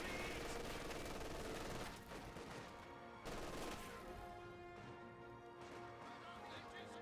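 Machine gun fire and battle noise in the WWII strategy game Company of Heroes 2, dense bursts of rapid shots and crashes, loud and continuous, with a brief dip midway.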